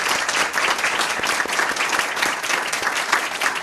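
A public meeting audience gives honorees a sustained round of dense, steady applause, many hands clapping together at even loudness throughout with no voices standing out.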